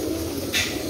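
Pigeons, including Lal Pari and Teddy cross birds kept for sale in Jhelum, coo softly in a low, steady murmur with a brief brighter burst midway, no talk heard.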